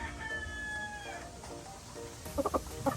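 A straight-combed stag rooster gives a drawn crowing call, then a few short, close clucks after a brief pause, with no talking.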